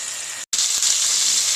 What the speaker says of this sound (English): Listen to that sizzle, Carl.